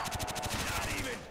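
Machine gun fire in a custom zombies video game rattles as one rapid, continuous burst of closely spaced shots, loud and close throughout.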